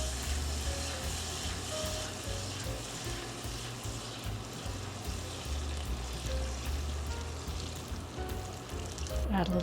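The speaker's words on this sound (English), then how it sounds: "I'm going to stir in my butter. Be very careful because that's going to bubble up." Butter stirred into hot, scorching caramelizing sugar bubbles and sizzles steadily with a dense, crackling fry, close and continuous, with faint stirring under it.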